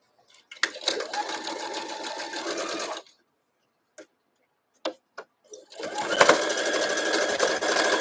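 A sewing machine stitches a quilt block in two loud, steady runs, separated by a pause with a few clicks and handling knocks.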